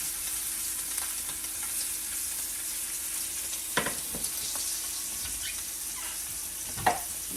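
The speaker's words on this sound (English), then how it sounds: "While we're waiting on the sausage to get done" Sausage frying in a hot pan on a stovetop gives a steady, soft sizzle throughout, with a few brief clinks and scrapes of a utensil and no talking.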